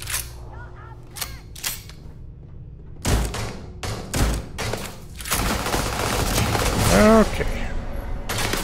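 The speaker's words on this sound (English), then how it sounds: "Oh, someone's shooting me." Gunfire in the Starfield video game during a bank mission, sharp shots cracking out in scattered single bursts and then a denser, faster volley, with someone briefly speaking.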